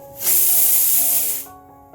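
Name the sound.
pressure cooker hissing steam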